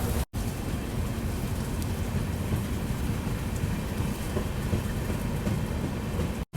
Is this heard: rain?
yes